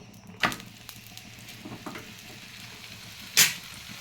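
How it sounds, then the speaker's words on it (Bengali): An aloo paratha fries on a hot tawa brushed with a little oil, giving a low, steady sizzle with two louder scraping clatters from a spatula. "আমি একটি তাওয়া গরম করে নিয়ে একটু তেল ব্রাশ করে নিয়েছি এবার আমি এগুলোকে ফ্রাই করে নেব"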